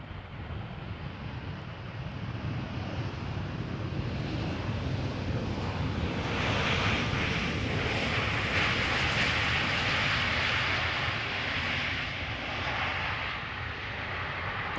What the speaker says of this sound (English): E2 Embraer 195 landing over here.